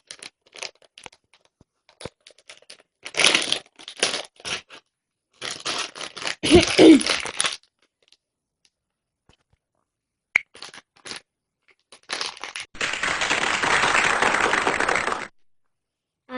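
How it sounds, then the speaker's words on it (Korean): Plastic packaging of a Popin' Cookin' strawberry shake candy kit being torn open by hand, crinkling and ripping in several close bursts separated by pauses, ending in a long sustained tearing rustle. "네, 뜯어볼게요."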